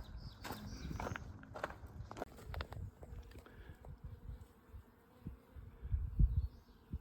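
A swarm of bees hums faintly around little white flowers beside a hiking trail in Great Smoky Mountain National Park, while footsteps crunch and shuffle close by.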